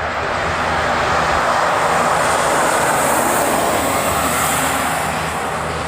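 A heavy airliner taking off from the reef runway at Honolulu makes a loud, steady jet roar that stays full and continuous throughout.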